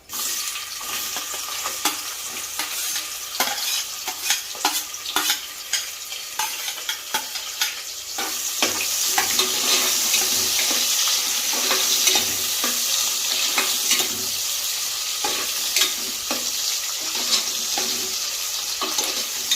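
Onions sautéing in a pan for chicken biryani, a continuous close sizzle broken by frequent sharp scrapes and knocks of a spoon stirring, with no voices.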